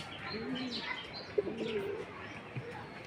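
Homing pigeons coo softly nearby as they return to the loft, with a few low rolling calls and faint chirps over quiet background noise.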